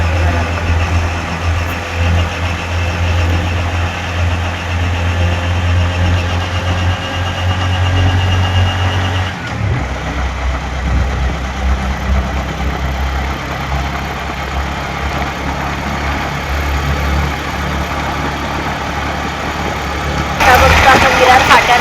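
Auto rickshaw engine droning steadily while riding along a highway in the early morning from Mumbai, a constant low rumble with road noise that shifts briefly midway and brightens near the end, no talking.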